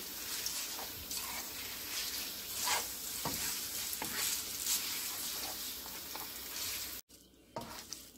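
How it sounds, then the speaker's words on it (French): Boiled spaghetti is stirred into a courgette sauce in a pan, a quiet steady sizzle with repeated soft scraping and sloshing strokes, briefly cut off near the end before resuming. "Nous avons fait bouillir des spaghettis que nous allons mettre dans notre sauce. Mélangeons très bien, délicatement."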